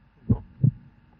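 Two low, thudding heartbeat pulses from a sound effect in the horror game Pikachu.Exe, a double throb followed by a dull hum, fairly quiet with no talking.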